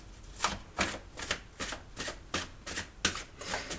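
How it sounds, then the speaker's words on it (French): A deck of tarot cards is riffled and shuffled in quick, even bursts, about nine crisp flutters in steady rhythm, close and clear with no talking. "je remets la carte dedans parce que je voudrais quand même mélanger mon jeu"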